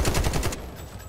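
Rapid automatic gunfire from the video game Delta Force, a burst of evenly spaced shots for about half a second that then cuts off, leaving a low game ambience.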